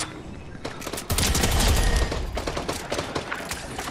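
Rapid rifle fire in Fortnite, a close, loud string of overlapping shots in quick bursts that swell and then trail off over a few seconds.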